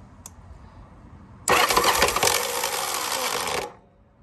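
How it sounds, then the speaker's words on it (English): A Yamaha Virago motorcycle engine cranks for about two seconds with a harsh metallic gear grinding, then cuts off into quiet. "All I hear is gears grinding."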